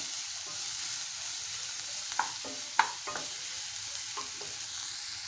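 Sliced onion stirred and sautéed in hot oil, cooking down before black-eyed pea leaves are added: a steady sizzle runs throughout, with a few spoon scrapes against the pan, close and without talk.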